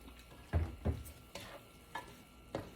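Shrimp fried rice is stirred in a pan with soy sauce: a handful of distinct scraping, clattering strokes, the first two loudest, spaced under a faint sizzle with no talking.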